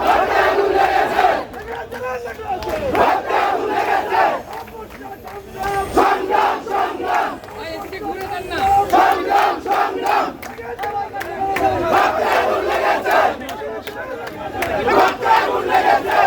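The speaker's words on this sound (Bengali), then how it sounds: "সেনাবাহিনীকে ভুয়া ভুয়া স্লোগান দিচ্ছেন" A large crowd rhythmically chants a 'bhuya bhuya' slogan at the army at a street gate, repeated shouted bursts rising and falling steadily throughout, loud and massed.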